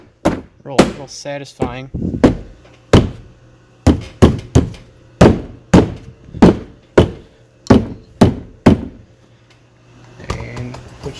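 Plastic door panel pins on a 2015-18 Jeep Renegade door are popped into place, a series of loud, sharp thunks at uneven intervals, about a dozen close blows, with a brief spoken remark near the start.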